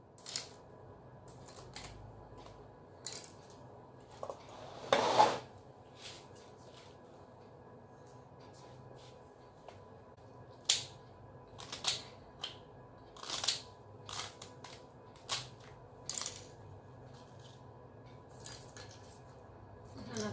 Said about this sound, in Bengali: একটু পরে কাটছি, বাঁধাকপিটা কাটি